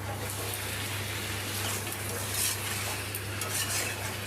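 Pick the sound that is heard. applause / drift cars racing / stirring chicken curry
stirring chicken curry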